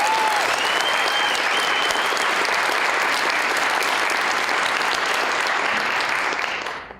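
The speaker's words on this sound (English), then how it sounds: "So let's give them a big round of applause." Loud, sustained applause from a large crowd at a university library author interview event, steady and dense throughout before tapering off at the very end.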